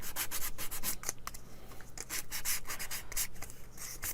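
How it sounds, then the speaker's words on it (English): Wood being sanded by hand inside a ROKR Submarine AM680 steampunk music box kit: steady close rasping rubs in quick back-and-forth strokes, fairly loud and continuous, with no talking. "The inside of these I do want to make sure is properly sanded"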